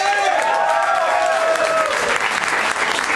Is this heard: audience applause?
yes